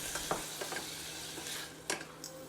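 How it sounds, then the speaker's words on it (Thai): Minced pork stir-fried in a pot with light soy sauce, seasoning sauce and pepper: faint, steady sizzling with a few scraping stirs of a utensil against the pot, no voices. "เราจะรวนหมูสับในหม้อใบเดิมเนี่ยนะครับ"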